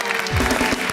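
A studio audience on a talk show breaks into a brief, loud burst of applause, dense and close, lasting about a second.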